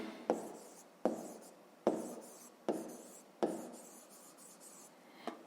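A pen writes a math answer on paper in a quiet room, with five crisp strokes or taps roughly a second apart, each followed by a short fading scratch, close and fairly soft.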